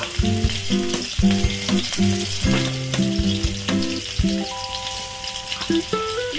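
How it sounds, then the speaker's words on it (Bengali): Chicken frying in a pan with chopped garlic and onion while being stirred, a loud close sizzle broken by repeated rhythmic scrapes and knocks of the spoon, no voices. "কিছুক্ষণ নাড়াচাড়া করবো এই চিকেনটা"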